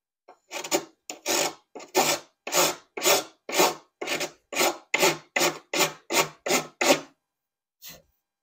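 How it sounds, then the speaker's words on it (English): A fine rounded metal file rasps against the wiper bay of a C3 Corvette in about thirteen steady, close strokes, then one last faint stroke after a short pause. "one of these files with a rounded side so you can actually get in there, and this is a lot finer, so you can do a little more detail work"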